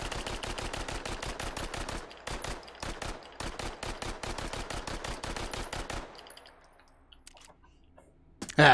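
An M4 rifle fires semi-auto in the VR game Hot Dogs, Horseshoes & Hand Grenades, with a rapid string of sharp shots, a brief gap, another steady run, then quiet before a final loud clunk.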